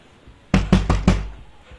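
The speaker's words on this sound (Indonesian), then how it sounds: "Siapa yang gedor pintu?" Four heavy knocks banging on a door in a horror video game, evenly spaced and close, followed by a faint fifth thud as the knocking fades.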